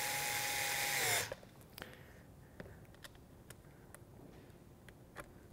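A power driver whirs in one short, close burst as it drives a screw into a Nomad scene light battery tube, followed by faint clicks and handling noises.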